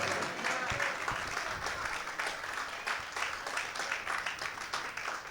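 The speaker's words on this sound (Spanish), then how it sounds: "¿Pueden aplaudir a Jesús?" A church congregation at a Spanish-language sermon breaks into sustained applause, a dense, steady clatter of many hands filling the room with no break.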